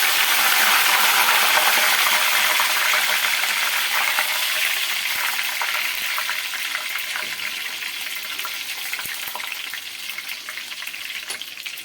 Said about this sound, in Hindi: उसको भी इसमें डाल के इस तरह से इसको तड़का लेंगे।